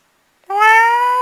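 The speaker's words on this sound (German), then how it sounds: "Blöde Mieze, Katze." A single drawn-out cat meow from the video game CastleStorm, clear and close, rising in at once and holding a steady pitch for most of a second before cutting off sharply, with no talk over it.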